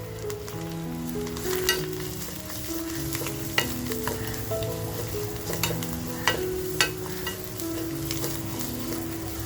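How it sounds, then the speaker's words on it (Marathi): Homemade all-in-one masala sautéing in oil over a low flame, making a steady soft sizzle close by, with periodic spoon taps and scrapes against the pan and a low hum underneath, without speech. "आता जो आपला शलाका ऑल इन वन हा आपला घरगुती मसाला आहे तो सुद्धा आपण छान असा तेलात परतवून"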